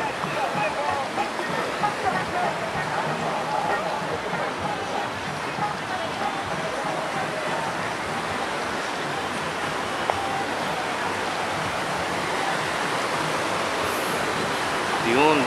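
Mountain stream water flowing steadily near Salabusob in Bongabon, Nueva Ecija, a continuous close rushing wash that holds at an even loudness throughout.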